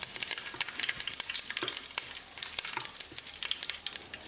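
Steady crackling sizzle of cloves and curry leaves frying in hot oil, with sharp scraping taps of a spoon stirring the pan throughout.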